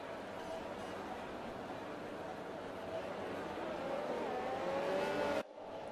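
F1 2020 race cars idle and roll through the Monaco formation lap, a steady layered engine buzz with rising whines from nearby cars, growing slightly louder before cutting off abruptly near the end.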